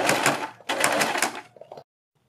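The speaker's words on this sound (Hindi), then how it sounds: "देखिए इस पट्टी पर हम यहाँ तक ये सिलाई लगाएंगे" An electric sewing machine stitches a fabric strip onto a kurti neckline in two quick close bursts of rapid mechanical whirring, the second longer and slowing to a stop.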